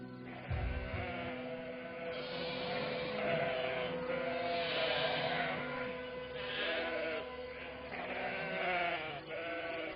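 Sheep bleat repeatedly in a pen, several overlapping calls rising and falling over a steady background, fairly close and continuous throughout, in an animated 3D cartoon setting.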